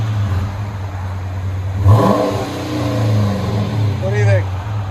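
2013 Chrysler 300 S with a 5.7L HEMI and dual exhaust with muffler delete, a steady deep idle broken by a couple of short revs, heard close with a voice talking over it.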